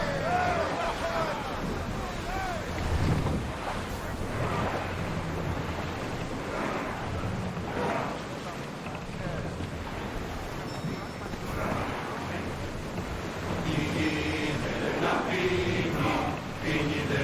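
Ocean waves wash and surge around a sailing ship in the Assassin's Creed Odyssey video game, a continuous rushing swell with wind, overlaid by background crew chatter and game voices throughout.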